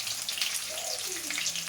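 Shrimp briouats fry in hot oil with a steady, close crackling sizzle throughout.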